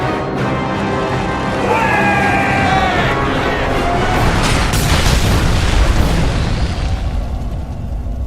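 Explosions and gunfire from soldiers in God of War, a loud, dense series of booming blasts and bursts that builds over several seconds, with no voices.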